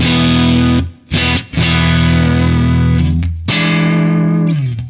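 A heavily distorted electric guitar through a British amp rings out with sustained, gritty chords, briefly cut off a few times, loud and saturated with a snarling edge.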